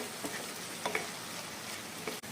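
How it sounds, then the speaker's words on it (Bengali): Tomatoes sizzle and fry in a pan for a Bengali dak bungalow chicken dish, a steady close crackle with a few faint ticks of movement and no voices. "টমেটো একটু ভালো করে কুক করবেন"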